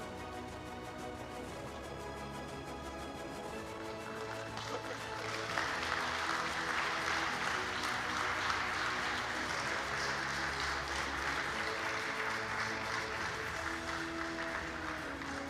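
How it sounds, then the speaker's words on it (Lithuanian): An audience at a teachers' awards ceremony applauds the nominees, a dense, steady wash of clapping that swells after a few seconds and continues under music. "Jūsų aplodismentai ir žinoma didžiausia sveikinimai nominantams."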